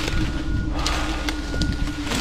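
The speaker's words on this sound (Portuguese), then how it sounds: "O vento atrapalha, né? Atrapalha, mano. Tá muito forte o vento." Strong gusting wind buffets an outdoor microphone, a loud, continuous low rumble with sharp bursts of blowing noise and no clear talking.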